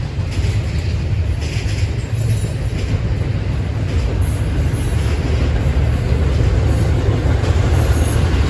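A freight train led by a single GE Evolution locomotive running long hood forward and hauling 99 cars rumbles past close by in Berea, a steady heavy roar of wheels on rails with faint clicking and metallic squeal.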